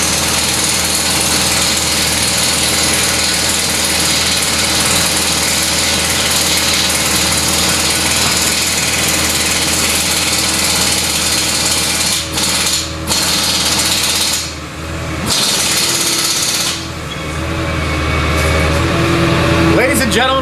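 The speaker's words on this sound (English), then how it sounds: "Bruce using an air hammer" A pneumatic air hammer rattles continuously on a 451 stroker big block Mopar engine in an auto shop, loud and sustained with a few brief pauses near the end.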